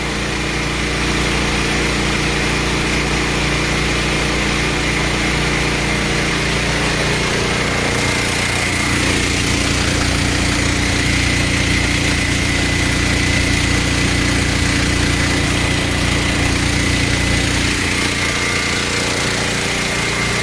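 A Wen portable generator runs loud and steady while powering an air conditioner, its engine droning continuously with a rough vibrating hum and a slight shift in load partway through.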